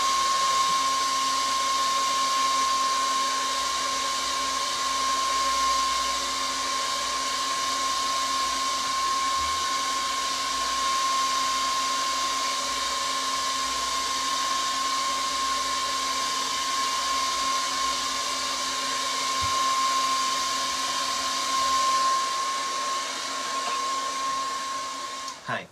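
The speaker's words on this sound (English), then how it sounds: "I need to dry the screen, so I have to use the dryer once again." A hair dryer drying a printmaking screen blows continuously for about twenty-five seconds, a steady loud whooshing hum with a high whine, stopping at the end.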